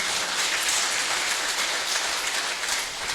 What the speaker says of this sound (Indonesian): Mari tepuk tangan untuk itu panitia dulu.